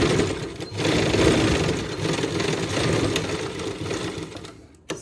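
Close, continuous run of a sewing machine putting stitches along the side seam of a blouse during fitting, a steady whirring hum that cuts off abruptly near the end.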